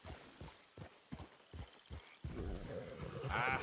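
Horse hooves in Red Dead Redemption 2, a string of distinct clip-clop hits at a slow, uneven walking pace, then a thicker rush of sound with a snort or whinny near the end.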